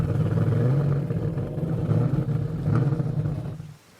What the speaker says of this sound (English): But it's 6-speed manual transmission, but it sounds like an exotic car.